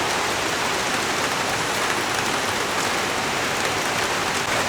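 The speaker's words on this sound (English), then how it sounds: "Rain kicked in again, in a bike shelter," Rain falls steadily outside a bike shelter, a dense, loud, even hiss of drops with no pauses and no voices.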